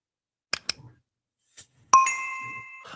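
A subscribe notification bell rings once with a bright ding that rings out and fades, after a few faint clicks, with no talk.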